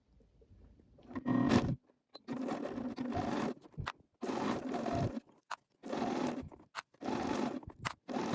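A sewing machine stitching a seam through the knit fabric of a cardigan, running in five or six close bursts of a second or so each, with short silent pauses between runs and a sharp click or two in the gaps.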